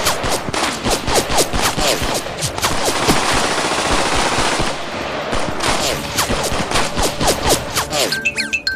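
Cartoon gunfire from a Durga and Mahisasur animation: rapid bursts of loud machine-gun shots, a brief lull midway, then more volleys and single cracks.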